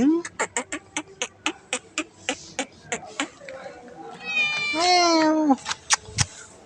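A cat meows clearly twice, once at the start and once in a longer drawn-out cry later, between a quick series of sharp tapping clicks, while a person talks nearby.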